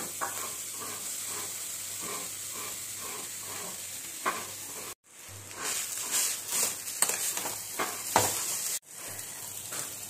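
Coconut milk cream melts and sizzles in a pan for a village-style Ganesh Chaturthi modak, a soft continuous frying hiss with faint stirring scrapes, two brief dropouts, and no talk.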